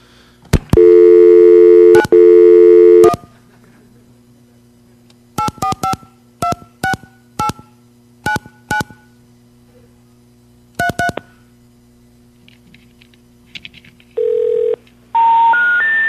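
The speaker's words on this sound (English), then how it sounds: "let me go dial another phone number for you" Telephone line tones during a phone call: two long steady beeps, then quick bursts of touch-tone dialing digits, followed by short tone sequences and rising tones at the end, loud and clear with no talking.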